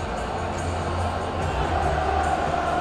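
Football crowd in a stadium singing a song together during a Euro match, Benfica fans' voices merging into a continuous loud chant that fills the whole stretch evenly.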